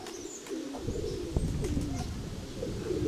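Pigeons cooing in a loft among pigeon racing birds, a low soft rolling coo that repeats steadily through the whole stretch alongside faint chirps, fairly close and with no one talking.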